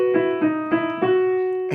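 Live-style piano fill: four sustained repeated chord strikes at an even pulse, then a held ringing chord, close and clear with no voices.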